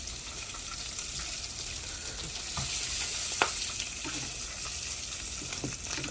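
Fries cooking in hot oil for homemade cheese fries, a steady broadband sizzle with a few faint clicks and bubbling pops throughout, no talking.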